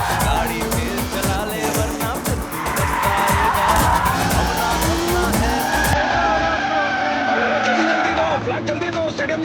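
A car spins around with tires skidding and squealing loudly on the road, the screech sustained and close through most of the stretch, with an engine roaring beneath and voices talking over it, from a South Indian action film.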